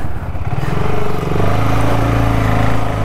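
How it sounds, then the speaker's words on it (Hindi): BSA Goldstar 650 single-cylinder motorcycle pulling away in first gear, a loud, close, steady low engine drone rising slightly as it gets moving, with no talking. "चलाते हैं बाइक।"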